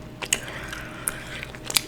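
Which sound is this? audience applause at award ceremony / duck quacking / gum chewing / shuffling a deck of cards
gum chewing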